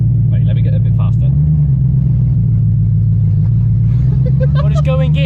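A BMW E36 that has sat unused for three years drives under its own power for the first time, its low engine rumbling steadily and changing pitch slightly as it moves, with people talking excitedly over it.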